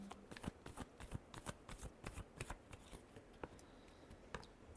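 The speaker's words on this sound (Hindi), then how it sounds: "Last shuffle." Tarot cards are shuffled by hand in repeated crisp riffles and slaps, an irregular close rustle with short pauses between bursts.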